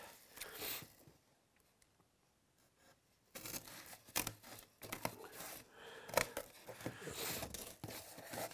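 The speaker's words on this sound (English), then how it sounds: "I'll go back to my scissors now and cut this shape out." Scissors cut through a cardboard template in short crunchy bursts, quiet at first, then a denser run of snipping and crinkling close by with no talk.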